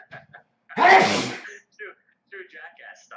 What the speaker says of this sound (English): I gotta sneeze. God bless.